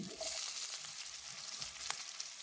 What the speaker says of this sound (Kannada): ಒಂದು ಐದರಿಂದ ಆರು ಟೇಬಲ್ ಸ್ಪೂನ್ ಎಣ್ಣೆ ಹಾಕ್ಕೊಳ್ತಾ ಇದ್ದೀನಿ ಅದಕ್ಕೆ ಸಾಸಿವೆ ಸ್ವಲ್ಪ ಕರಿಬೇವು ಮತ್ತು ಒಣಮೆಣಸಿನ್ಕಾಯಿ ಈರುಳ್ಳಿ